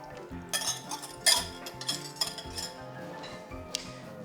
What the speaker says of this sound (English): And give it a good whisk together